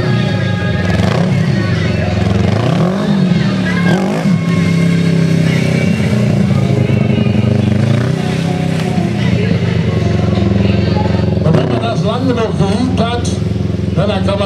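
A stunt motorcycle engine at a stunt show runs loud and close, rising and falling in revs with a few sharp blips, under a voice commenting.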